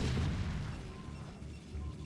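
Photon cannon destroyed in StarCraft: Brood War, a single low rumbling boom at the start that fades into a sustained muffled crumble, loud and alone with no talk.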